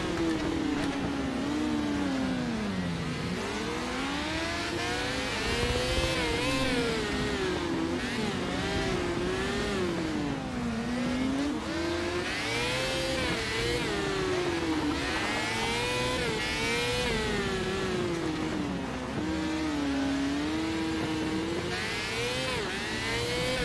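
Race cars roar continuously around a narrow track, engine pitch sweeping up and down as they rev and brake through corners, loud and close throughout with no talking.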